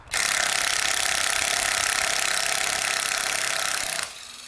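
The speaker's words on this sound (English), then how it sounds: "as I'm loosening this last bolt, it's going to be putting a lot of pressure on it" A power tool whirs steadily for about four seconds while loosening a bolt on a Toyota engine block during an engine replacement, loud and close, then cuts off abruptly into quieter workshop ambience.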